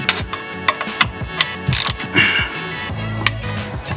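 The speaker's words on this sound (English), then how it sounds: "So you're going to need a 6mm Allen socket to take it out." A ratchet turning a 6mm Allen socket to loosen the oil drain plug on a BMW E92 M3, loud close clicking in short bursts with pauses and a longer run of rapid clicks.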